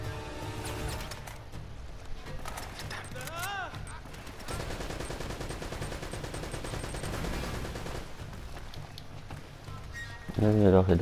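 Sustained gunfire and rattling bursts from the action video game Uncharted: Drake's Fortune run steadily at moderate loudness, with a voice speaking briefly near the end.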